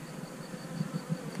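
Honey bees buzz around an opened hive, a soft steady hum with several louder passes as bees fly close, with no one speaking.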